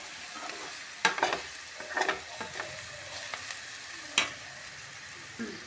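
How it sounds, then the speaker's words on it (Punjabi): Spices sizzling in hot oil for a tempering while being stirred with a spoon, with scraping strokes against the pan and a few sharp clinks over a soft, continuous fry. "ਸਾਰੇ ਮਸਾਲਿਆਂ ਨੂੰ ਜੀ ਤੜਕੇ ਵਿੱਚ ਚੰਗੀ ਤਰ੍ਹਾਂ ਮਿਕਸ ਕਰ ਦਾਂਗੇ"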